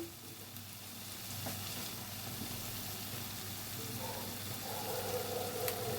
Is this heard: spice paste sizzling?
yes